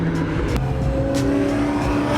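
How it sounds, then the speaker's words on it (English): Cars arriving at a car meet in Bellevue, engines droning and shifting pitch as they roll in, fairly close and continuous with a few brief revs, no talk heard. "A whole bunch of cars rolled up."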